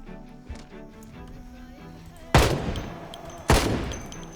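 Two loud, sharp gunshots from a gun in the Roblox shooter BRM5 Zombies mode, spaced about a second apart, standing out over quieter game ambience and a voice.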